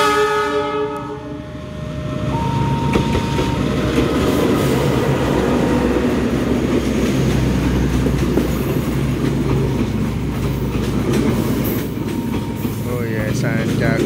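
A Sancaka passenger train from Yogyakarta to Surabaya Gubeng rumbles steadily past on the rails in Indonesia, loud and close, with a horn sounding near the start and a continuous rolling clatter throughout.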